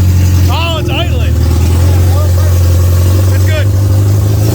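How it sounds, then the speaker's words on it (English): A 1984 Plymouth Reliant wagon engine idles with a loud, steady low rumble throughout, while several people talk over it in brief bursts. "Oh, it's idling."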